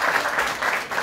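An audience claps at an outdoor gathering beside a royal burial-ground excavation in Nuzal, Alania, producing a dense, even patter of hands that lasts the whole second without pause.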